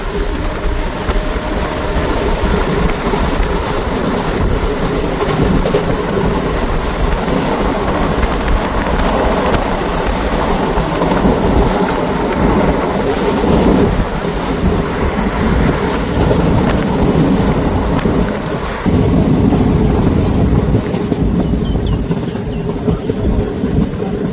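A Ludhiana–Churu passenger train runs along the Dhuri line, a steady, loud rumble of wheels and carriages that continues without a break, with a faint rhythmic clatter beneath it.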